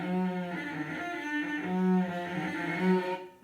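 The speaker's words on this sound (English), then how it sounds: "That sound is what happens when your fingers are in the right place," A cello bowed in long notes while the fingers sit in place but fail to press the strings down fully, giving a wavering, buzzy, unfocused tone across several sustained pitches, played alone.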